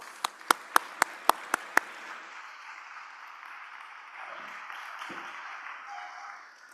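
A crowd applauds a speaker introduced at a talk on Boundary Waters Canoe Area Wilderness law, opening with several sharp, evenly spaced claps before settling into steady, sustained applause that fades at the end.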